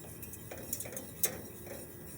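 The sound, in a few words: whisking butter into beurre blanc sauce in a pan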